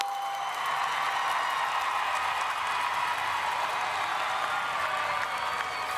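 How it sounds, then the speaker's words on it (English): Steady, dense applause from a large crowd at a high school graduation ceremony, honouring the parents and loved ones in the audience. The clapping holds loud and even throughout with a faint crowd murmur beneath it. "give your parents and your loved ones a big round of applause for all of their support"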